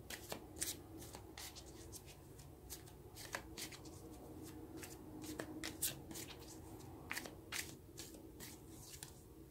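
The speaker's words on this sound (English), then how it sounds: "Now let's get another card." Tarot cards are shuffled close by in quick, crisp bursts of riffling and flicking, repeating irregularly and softly over a quiet room.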